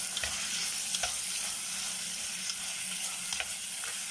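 Chopped tomatoes with onions fry in a pan for Palakkadan muttapuli, making a steady close sizzle with a few light spoon taps and stirring clicks scattered throughout.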